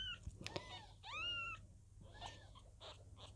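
A young lilac Birman kitten gives several high, thin meows close by, separated by short pauses, with soft rustling and a low hum underneath.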